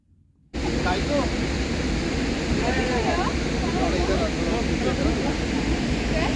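Burney Falls in California in winter, a steady, dense roar of falling water that starts abruptly after a brief quiet moment and then holds constant and loud, with faint voices in the background.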